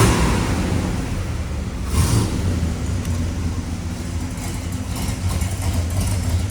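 A restored 1969 Chevrolet Chevelle SS 396 muscle car idles steadily with a low, rumbling engine drone, moderately loud and continuous with no voices.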